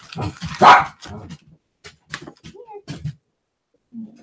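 A pet dog close by gives a few short barks and yips, with a brief whine, in a quiet indoor room and with gaps of silence between them.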